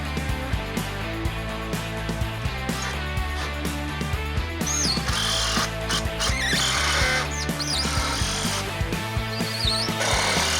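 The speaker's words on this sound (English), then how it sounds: "the next would be to pre-drill and install the screws" A power drill pre-drills holes and drives screws into a pergola during a bar shed kit installation, whirring and ratcheting close and fairly loud in continuous bursts, with no talking.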